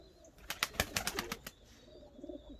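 An Uzbek pigeon coos in a short series of soft, rhythmic calls, fairly close, followed by quieter murmuring.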